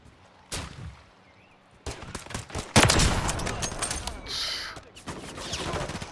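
Video game gunfire from Call of Duty Modern Warfare 3: a quiet start, then sharp bursts of automatic fire and single shots that swell into a dense, loud fusillade with brief pauses between volleys.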